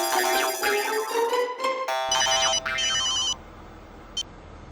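A phone rings on a call to Mehta sahab: a bright electronic melodic ringtone repeats loudly for a few seconds, then cuts off to faint background hum with one short blip.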